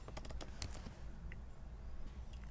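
Someone types on a computer keyboard, producing a quick run of light key clicks at the start and a few scattered taps afterward, faint and close over a low background hum.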